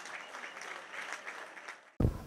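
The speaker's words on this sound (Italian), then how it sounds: "Sansovini, con il pubblico del Savini in piedi ad applaudire." A football crowd stands and applauds at the stadium after a 2-0 league win, steady distant clapping lasting about two seconds before a sudden loud low thump cuts in.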